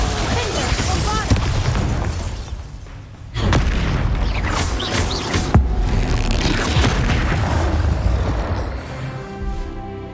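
Spell blasts from a Harry Potter video game, a run of loud booming explosions with sharp impacts around 3 and 5.5 seconds over dense continuous battle noise, with voices shouting incantations.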